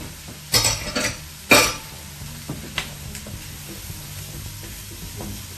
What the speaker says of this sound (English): So we're just going to go ahead and throw this bacon in there.